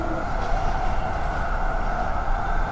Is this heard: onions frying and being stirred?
no